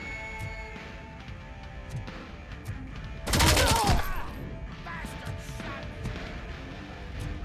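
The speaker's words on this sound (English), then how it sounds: "Let's try this gun without zooming in." A gun fires in the video game RoboCop Rogue City, one loud, rapid burst of shots lasting under a second, standing out over quieter, scattered game sounds before and after.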